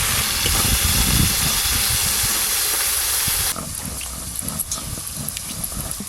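Small mourala fish frying in a pan of oil, a loud, steady broadband sizzle and hiss that drops noticeably softer partway through, with crackling pops throughout and no talk.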